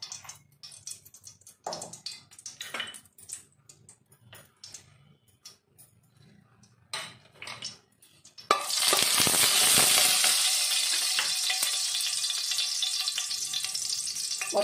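A few scattered taps and clinks, then ghee in a hot pan suddenly bursts into a loud, steady crackling sizzle that carries on to the end.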